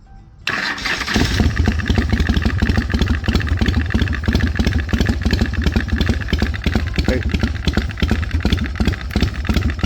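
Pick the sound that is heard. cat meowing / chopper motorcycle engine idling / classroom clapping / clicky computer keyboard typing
chopper motorcycle engine idling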